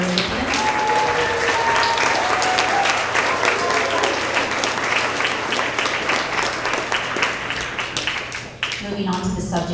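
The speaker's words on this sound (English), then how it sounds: "A round of applause for all of our math award recipients" A school award assembly crowd applauding math award recipients, loud sustained clapping from many hands filling the room for several seconds before tapering near the end.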